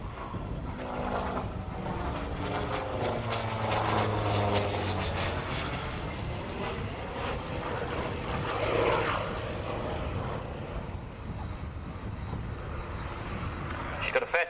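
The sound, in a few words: Hawker Sea Fury's Bristol Centaurus air-cooled engine in flight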